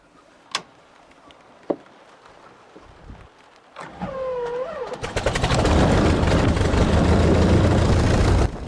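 A few clicks and a brief whine, then the Gipsy Major piston engine of a de Havilland DH.83 Fox Moth coughs to life and settles into a loud, steady roar.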